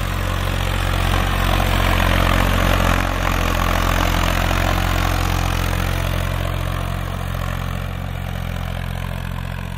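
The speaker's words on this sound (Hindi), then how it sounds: "उसमें चल रहा है ट्रैक्टर," A Massey Ferguson 241 DI tractor pulling a 9-tine cultivator in second high gear across a field, its diesel engine droning loud and steady up close with a constant low rumble throughout, no voices.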